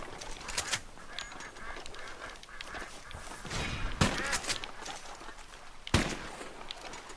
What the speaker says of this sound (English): I'm going to kill some ducks.